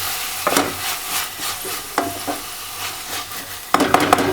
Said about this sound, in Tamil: இப்போ இதெல்லாம் ஓரளவு நல்லா வதங்கிடுச்சு.